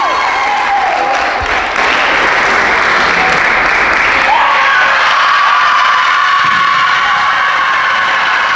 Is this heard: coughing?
no